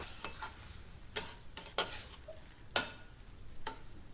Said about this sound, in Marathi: शेवटी तळलेले शेंगदाणे लिंबाचा रस स्वच्छ धुवून बारीक कापलेली कोथिंबीर मिक्स करूया